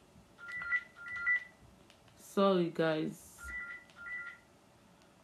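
A landline telephone rings in short repeated electronic trills, moderately loud indoors, with someone briefly speaking between the rings.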